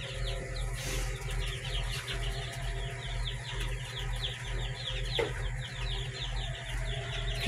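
Hens cluck and chatter softly indoors over a constant low mechanical hum, with a brief flutter of wings near the start.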